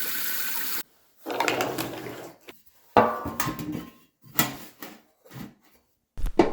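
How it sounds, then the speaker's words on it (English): Water running into a sharpening stone tray to soak the stone, heard up close in short bursts of splashing and pouring separated by brief silences, with clunks of handling between them. "fill it up with water."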